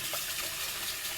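Tap water runs in a steady, full splash as pho ingredients are rinsed under it, filling the whole brief moment with close, continuous hiss and no pauses.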